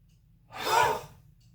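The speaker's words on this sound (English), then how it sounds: "The sound just comes from the air expelling itself." A single forceful breath pushed out through the nose or mouth during a yoga breathing exercise, a soft airy whoosh that swells and fades over about half a second, unvoiced and close, with quiet room tone on either side.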